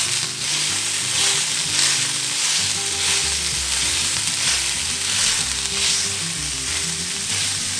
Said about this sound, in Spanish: En un sartén caliente freímos el chorizo a lumbre media, moviéndolo constantemente para que se deshaga.